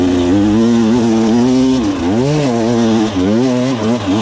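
An enduro motorcycle engine drones loud and close, holding a steady buzzing pitch before rising and dipping through a couple of revs, with no voices.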